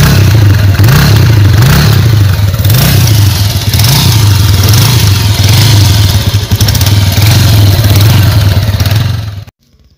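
A Bajaj Avenger motorcycle engine idles loudly close by, with throttle blips giving repeated rises in revs before cutting off abruptly at the end.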